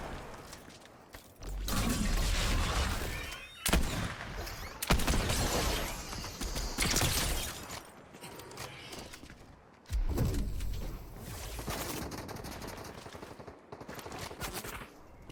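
Fortnite Zero Build gunfire crackles in uneven bursts, loud rattling volleys separated by brief pauses, with quieter in-game ambience between, no talk.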